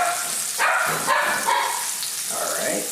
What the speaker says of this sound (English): that's Tyson in the background, barking